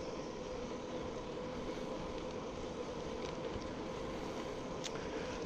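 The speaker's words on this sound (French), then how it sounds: "Là, le moteur est reparti." Homemade electric bike motor running at about 25 km/h, a steady broadband whir and hum that holds constant throughout, with faint wind rushing over the microphone.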